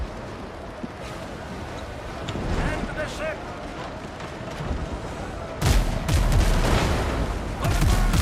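Front guns of a ship firing at sea in the pirate game WindRose, heavy booming cannon blasts that come in two loud volleys beneath someone talking over steady wind and water ambience.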